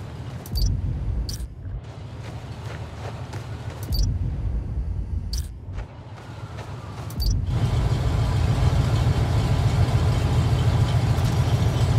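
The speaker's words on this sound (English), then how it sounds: "One of the fire trucks?" A fire truck engine idles at a fire station in the video game Spider-Man: Miles Morales, a low steady rumble with a few sharp clanks early on, then swelling to a fuller, louder drone.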